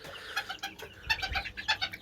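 Short clucks in an uneven rhythm come from a dark blue backup rooster in a home coop, close and fairly clear, with a few louder bursts and no talking.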